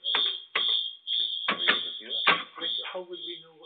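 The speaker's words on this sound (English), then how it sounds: "Oh, it's a fire alarm." A fire alarm sounds in a building as a continuous high electronic tone, with people talking over it up close.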